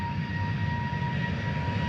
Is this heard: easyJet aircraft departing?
yes